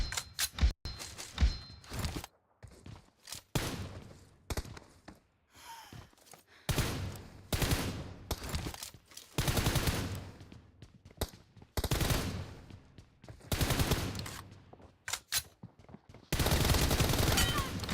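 Gunfire in the mobile battle royale game PUBG Mobile, repeated loud bursts of automatic shots separated by brief pauses, with other noises between them and a sustained stretch of firing at the end.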